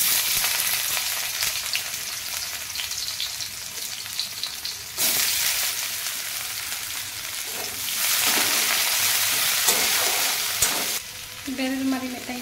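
Onions frying in oil spiced with cardamom, cloves, cinnamon and cumin, sizzling steadily and loudly, with stirring bursts, a few scraping sounds and a brief voice near the end.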